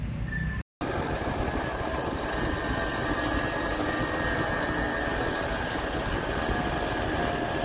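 The Matheran hill toy train climbs the ghat section toward Matheran, producing a continuous loud rumble and grinding with a thin high whine running through it. A momentary dropout occurs near the beginning.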